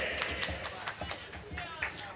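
An audience claps at a village stage-drama gathering near Tiruvadanai: sparse, scattered claps in an uneven rhythm, with a murmur of voices running underneath.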